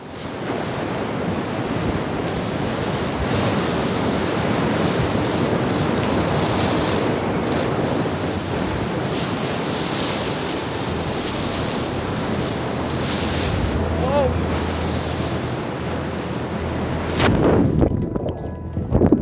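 Artificial waves break and wash continuously in a surf wave pool, a loud, sustained roar of churning surf with a sharper splash near the end.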